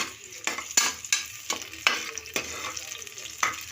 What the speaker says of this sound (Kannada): ಆನಿಯನ್ ಹಾಕೊಂಡ್ಮೇಲೆ ನೀಟಾಗಿ ಫ್ರೈ ಮಾಡ್ಕೋಬೇಕು.